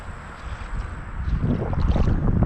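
Gusts of wind buffet the microphone while fishing from a boat on the Hocking River, the rushing noise growing louder and rougher toward the end with faint water sounds beneath.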